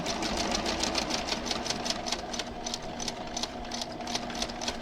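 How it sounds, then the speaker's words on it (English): A sewing machine stitches a quilt block seam for a sawtooth star block, giving a steady rapid mechanical whirr with fast even needle clatter that runs continuously at close range with no talking. "So I'm sewing on this side so I can keep an eye on"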